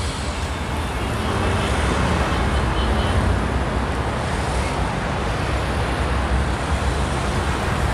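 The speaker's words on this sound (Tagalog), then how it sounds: "Ay kita mo naman, traffic masyado." Heavy road traffic makes a dense, continuous rumble of passing cars and larger vehicles, steady and moderately loud, with no single vehicle standing out.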